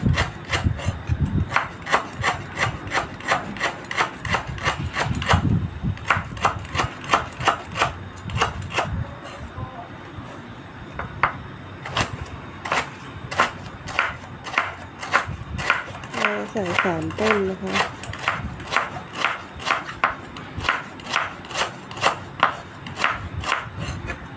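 Knife blade chops stored lemongrass stalks into large pieces on a wooden board, rapid regular thuds in bursts with short pauses, close and crisp, while someone talks throughout.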